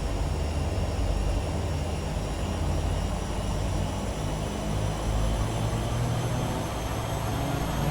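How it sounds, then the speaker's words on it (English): Twin turbine engines of a Turbine Duke V2 in a flight simulator game spooling up on the runway, a steady loud broadband roar with low rumble and faint high whine throughout, no talking. "Alright, so as we line up, let's increase the power. You'll hear those engines spool up realistically."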